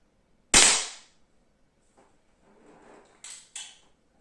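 A cheap handgun costing under 90 euros fires one sharp, loud crack, followed a few seconds later by two quicker, fainter snaps close together, in an otherwise quiet setting.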